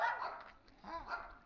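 A pitbull-type dog gives a couple of faint, short barks or yips with a brief gap between them, heard alone without talk.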